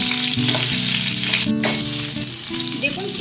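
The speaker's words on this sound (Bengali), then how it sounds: "এবার পটলগুলোকে আমি মিডিয়াম ফ্লেমে ভালো করে ভেজে নেব।" Pieces of pointed gourd (potol) fry in oil over a medium flame, giving a loud, steady sizzle with a stir or pan scrape cutting through briefly in the middle.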